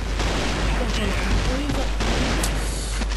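PSG1 rifle fire in a Counter-Strike style Point Blank shooter, with rapid game gunshots and booms cracking over a continuous battle din while a player talks over the action.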